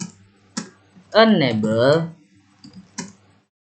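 A few separate clicks from a computer keyboard while router commands are typed: one near the start, one shortly after, and another late, around a person speaking in the middle.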